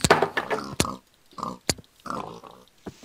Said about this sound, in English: this pig has a hat on